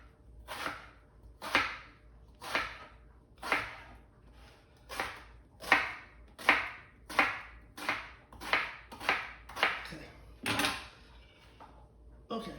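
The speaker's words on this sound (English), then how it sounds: "so we have our eggplant all chopped up" A knife chopping eggplant on a cutting board: a run of about fourteen sharp, fairly loud chops at a steady, unhurried pace, each a crisp thud-and-slice, with no voices.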